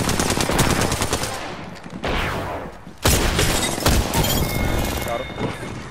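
Rapid automatic gunfire and single shots ring out in Apex Legends, loud bursts with short pauses around the two- and three-second marks, under a player's callouts.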